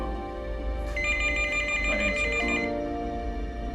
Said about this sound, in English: But at that instant, the phone rang.